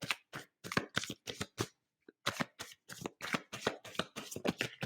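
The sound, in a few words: shuffling tarot cards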